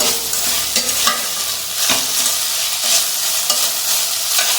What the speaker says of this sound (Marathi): टोमॅटो केचप घातला आहे आणि चांगला असं परतून घेऊया